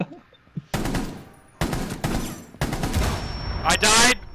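Rapid automatic gunfire in a video game rattles out in three loud, dense bursts, with a sharp high electronic tone near the end and excited shouting mixed in between volleys.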